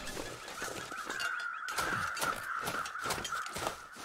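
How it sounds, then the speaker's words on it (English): Several crows cawing repeatedly in the video game The Long Dark, harsh overlapping calls in quick succession, fairly close and clear with no talking. "I can hear crows to the right here."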